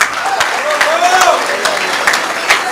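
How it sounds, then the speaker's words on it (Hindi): Audience applause at a Mahesh Navmi community celebration, steady clapping running under a voice calling out names, sustained and moderately loud across the clip. "तालियां कंटिन्यू कीजिए"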